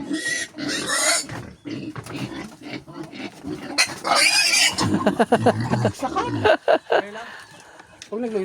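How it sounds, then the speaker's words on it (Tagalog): A pig grunts and squeals in repeated loud bursts, close by, mixed with people talking in an outdoor setting. "Yung baboy."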